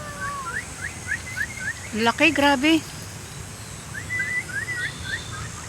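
Loud, harsh series of rapid repeated calls from a Philippine eagle, a short burst of stacked squawks lasting under a second, surrounded by soft high chirps of other birds and people talking quietly nearby.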